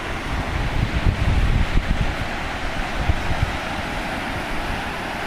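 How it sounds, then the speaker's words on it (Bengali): Strong wind blows outdoors, buffeting the microphone in a loud, roaring rush with gusts that swell early and then settle into a steadier blow, with no voices. "আর বাতাসের যা শব্দ, মনে হচ্ছে সাগর পাড়ে আছি।"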